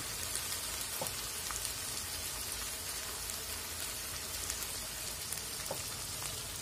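Filling for chicken khasta kachori fries in a pan with a faint, continuous crackling sizzle. Tiny pops are scattered through it, and no one speaks.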